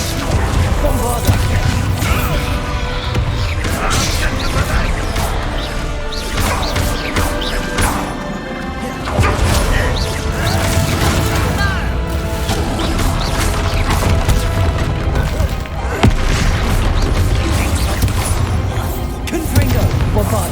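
Bombarda blasting spells in Hogwarts Legacy duel, a continuous run of loud crashes, thuds and whooshing impacts over twenty seconds, with shouted voices heard amid the fighting.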